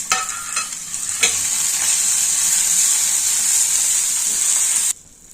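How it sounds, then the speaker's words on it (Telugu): Dried red chillies sizzle in hot oil alongside urad dal, mustard seeds and cumin, a loud, bright, continuous frying hiss with a few stirring scrapes that cuts off abruptly near the end. "మిరపకాయలు కూడా వేయించుకోవాలి."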